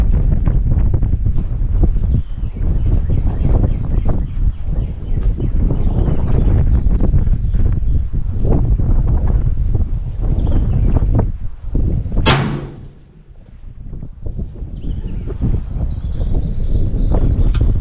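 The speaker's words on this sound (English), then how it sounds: "the wind's picking up" Strong wind buffets the microphone at an outdoor rifle range, a loud continuous roar that dips briefly near the end after a sharp bright burst.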